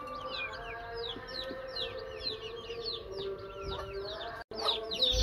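Bangkok chickens cluck in a steady stream of short, repeated calls close by, with a constant tonal hum underneath and a brief dropout near the end.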